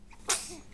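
A single short, sharp sneeze bursts out close by, quick and airy, then fades.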